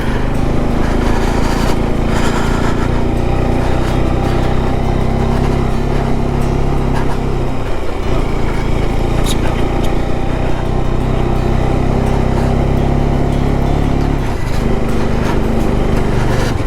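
A motorcycle engine labours steadily and loudly while climbing a high-altitude mountain dirt and gravel road, a continuous close drone with occasional dips in pitch as it strains.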